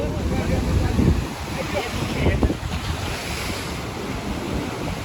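Ocean surf rolls and washes steadily at Dwarka where the Gomti meets the sea, mixed with gusty wind buffeting the microphone, a continuous roar with a swell near the start and middle.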